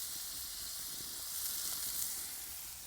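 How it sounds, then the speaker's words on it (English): Eight quarter-pound burger patties sizzling together on a hot griddle, a soft, continuous hissing fry without any break or voices. "I've got all 8 on the go. They're going to griddle up nicely"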